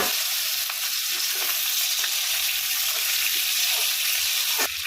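Cut potatoes fry in hot oil seasoned with whole dried chillies, bay leaves and cumin, giving a steady, dense sizzle that holds at an even level close by, with a faint clink near the end.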